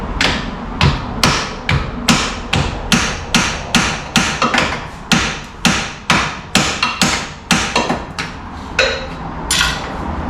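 Loud, repeated hammer blows on metal, each a sharp ringing clang, struck in quick irregular bursts close up with no talking.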